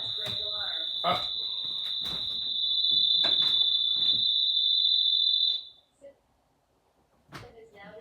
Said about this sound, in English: that's my glass break alarm.